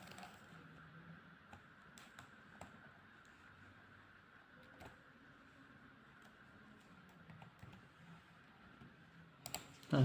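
Quiet, sparse clicks of a computer keyboard being typed on while filling in an online land tax application form, with soft keystrokes spread across a low background hum and no talking.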